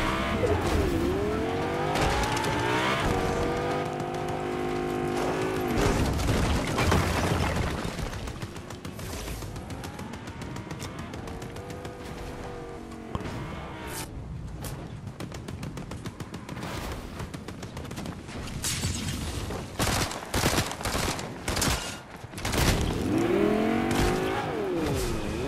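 A car in the video game Fortnite drives loudly and continuously, its engine revving up and down in sweeping pitch with bursts of tire squeal and skidding.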